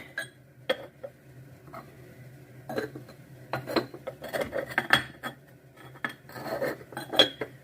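Lids set onto clay pots of potatoes, a run of light clinks and scrapes of ceramic on ceramic, close and irregular, with a faint steady hum underneath and no talking.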